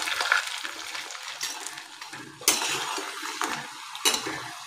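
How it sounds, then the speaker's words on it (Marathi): Rice bhaji fritters fry in oil over low heat, a close bubbling sizzle broken by occasional clinks and scrapes of a utensil against the pan, with no voices. "आता आपण यांना मंद आचेवर चांगलं क्रिस्पी होईपर्यंत तळून घेऊया।"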